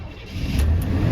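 A 1980 Corvette engine revs as throttle is given, a steady close growl rising slightly and holding for a moment with no voices.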